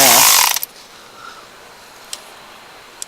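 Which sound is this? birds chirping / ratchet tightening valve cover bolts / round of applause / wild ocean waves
ratchet tightening valve cover bolts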